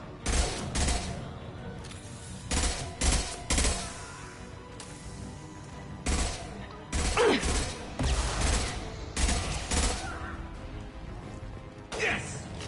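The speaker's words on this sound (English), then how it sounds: "Nice shooting!" Gunfire in the Mass Effect 2 video game, bursts of rapid shots in clusters separated by brief pauses, loud and close with sharp impacts and mechanical clatter.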